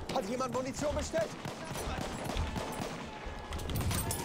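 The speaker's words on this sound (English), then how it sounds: "Oh no, they're shooting at me" Gunfire crackles in Battlefield 1, scattered shots and bursts from a multiplayer match, moderately loud and continuous under game noise while players talk over it.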